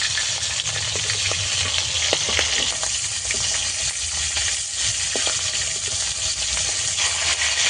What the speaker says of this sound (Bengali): মাছটাকে উল্টে পাল্টে এইভাবে লাল করে ভালো করে ভেজে নিয়েছি